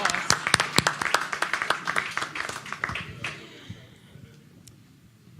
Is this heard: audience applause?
yes